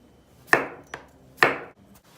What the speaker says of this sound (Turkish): Önce patateslerimizi halka halka doğruyoruz.